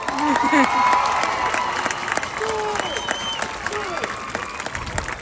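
Steady applause from a crowd at a commencement ceremony, with scattered cheers and shouts, fairly loud and continuous throughout.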